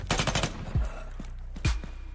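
Gunfire in the tactical shooter game Ground Branch: a quick burst of rapid rifle shots, then two separate single heavy shots with deep booms, fairly close and punchy.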